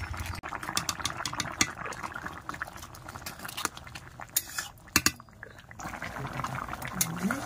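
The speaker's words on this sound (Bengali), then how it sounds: "তরকারিটা কিন্তু সুন্দরভাবে ফুটে উঠেছে" Crab curry with potatoes and taro bubbling in a pot, the crabs caught in the Sundarbans forest: soft irregular bubbling and liquid simmering with occasional clinks of a spoon against the pot, close and fairly quiet.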